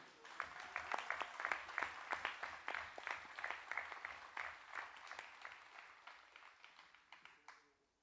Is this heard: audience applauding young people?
yes